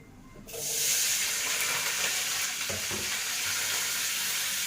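Chicken fries in a pan at home with a steady, loud sizzle that starts abruptly and holds constant, with faint stirring clatter and no talking.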